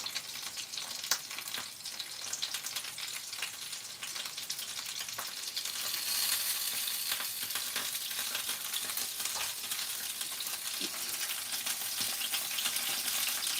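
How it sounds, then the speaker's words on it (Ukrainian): Pelmeni dumplings fry in a pan for dinner, a steady bright sizzle and crackle of hot oil with occasional pops, close and continuous with no talking. "сьогодні ми вечеряємо смаженими пельменями"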